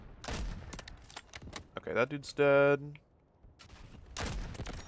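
Sniper rifle shots in the military shooter Delta Force, a few sharp cracks spaced apart with a louder burst near the end, while someone talks between the shots.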